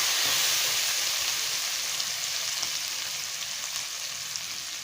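Ginger paste frying in a pan for a pointed gourd dolma, a dense, continuous hissing sizzle heard up close, slowly easing in loudness, with faint stirring clicks and no speech.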